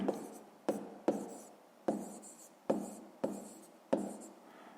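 A pen writes out a fifth-grade math exercise solution by hand: a series of about seven quick, scratchy strokes, each starting sharply and fading, heard close and alone in a quiet room.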